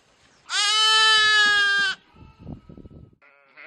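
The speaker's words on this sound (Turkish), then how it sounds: "Konyalı üreticilerin ağılları Mart ayında kuzu sesleriyle şenlendi." Lambs and sheep in a livestock fold in Konya bleat loudly and close up: one long, sustained, wavering cry, then a shorter bleat, with soft shuffling in between.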